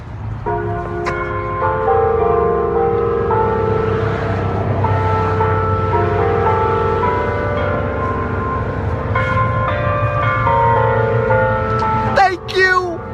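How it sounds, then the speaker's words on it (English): Bells ring out in a sustained, overlapping peal with rich ringing tones, loud and close, with a voice briefly heard near the end. "Wouldn't it be horrible if we didn't get the bells today?"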